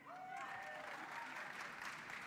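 A crowd at the Black Caucus gathering during the 2024 DNC applauds steadily, a dense, even wash of clapping that holds its level, with voices faint beneath it.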